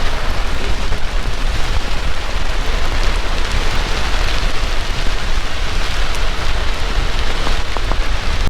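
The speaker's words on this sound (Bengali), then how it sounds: "জোরে বৃষ্টি পড়ছে" Heavy rain pours outdoors on the road from Guwahati toward Bhalukpong, a dense, loud, continuous hiss of drops hitting surfaces with no pauses and no voices.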